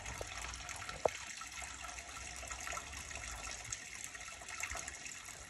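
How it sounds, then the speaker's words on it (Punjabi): Water flows steadily as a faint, continuous wash with a soft splash near the start, and no one speaks. "ਚੱਲ ਗਿਆ ਪਾਣੀ ਕਾਫੀ ਵਿੱਚ"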